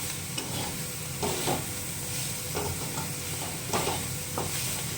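Dried shrimp frying in oil with dried red chillies, green chillies and plenty of garlic, with a continuous sizzle and crackle and repeated scraping strokes of a spatula stirring the pan.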